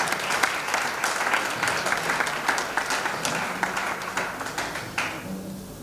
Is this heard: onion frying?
no